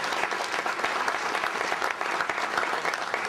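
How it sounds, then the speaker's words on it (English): Steady, dense applause from a conference audience at a keynote address, many hands clapping continuously at fairly close range with no talking over it. "Give him a round of applause for that idea,"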